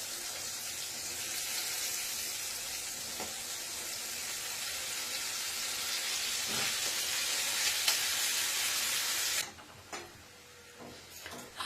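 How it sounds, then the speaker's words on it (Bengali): Potatoes and onions fry together in a pan for an egg curry, giving a steady broadband sizzle that holds for about nine seconds before dropping to quieter clatter and faint stirring. "আলুটা আর পেঁয়াজটা আমার একসাথে দেখো ভালোভাবে ভাজা হয়ে গেছে।"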